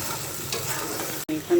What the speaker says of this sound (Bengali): এখন সমস্ত মশলাটা কষিয়ে নেব।